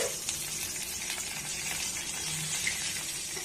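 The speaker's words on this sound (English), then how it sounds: "curry leaf, little turmeric. Fry for a second." Curry leaves and turmeric frying in hot oil in a pan, a steady close sizzle and crackle that holds evenly throughout with no talking.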